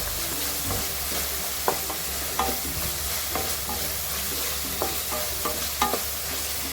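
Ginger garlic paste frying in a pan for a paneer masala, with a steady continuous sizzle and occasional soft clicks of a spoon stirring it, fairly close and alone without voices.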